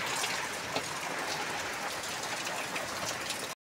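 Heavy monsoon rain in Lonavla pours in a steady, dense hiss that stays loud and even throughout, with no voices, before cutting off abruptly at the very end.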